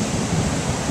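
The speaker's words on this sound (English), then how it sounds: "Big waves coming in." Ocean waves rolling onto a beach, a broad, continuous roar of surf that stays loud and even through one brief second with no voices.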